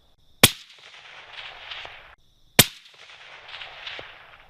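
Two sharp rifle shots from a Bergara B-14 Ridge in 6.5 Creedmoor fired at a range, about two seconds apart, each a loud crack followed by a trailing echo rolling off into the distance.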